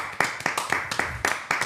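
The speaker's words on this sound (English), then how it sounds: "Clap it up, y'all" An audience at a clothing brand event claps in a short burst of sharp, irregular claps, fairly close, with a faint voice underneath.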